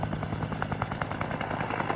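A helicopter's rotor gives a steady, rapid thudding chop under a continuous engine drone, fairly faint and unchanging for the whole stretch.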